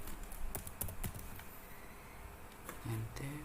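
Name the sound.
typing on a computer keyboard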